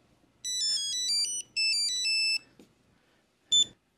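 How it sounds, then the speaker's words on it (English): Melodic ringtone from a Nokia mobile phone used as an emergency phone at a video game expo, two clear bursts of a repeating tune followed by a short high beep, loud and near with no talk. "The phone ringing. That's the emergency Heine House Nokia phone."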